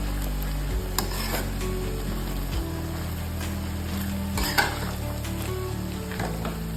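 Onions frying in a pan while stuffed bitter gourd is being cooked, a steady close sizzle with occasional stirring scrapes and clinks of a utensil against the pan, no talking.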